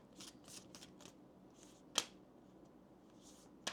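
Oracle cards are shuffled by hand in soft riffling bursts, with a few sharp snaps as the deck is tapped or cut. The sound is close and fairly quiet, with no speech.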